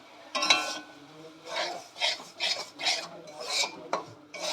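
Semolina fried for breakfast is scraped and stirred in a pan with a spoon. Around six rhythmic, close, dry rasping strokes can be heard, fairly quiet, with no voices.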